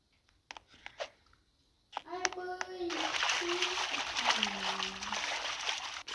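In a Roblox game, a brief clatter gives way to a sustained rushing splash of water, with a voice speaking over it.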